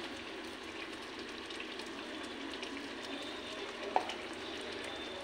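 A soybean and potato egg omelette dish with garam masala sizzles steadily in a pan, with a continuous frying hiss and one brief clink of a spoon while it is stirred.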